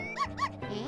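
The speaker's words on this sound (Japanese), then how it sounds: "あ、バカ犬じゃん。" Cartoonish dog barks in the video game Yoshi's Story, two to three bright yelps in quick succession over steady game music, fairly close and clear.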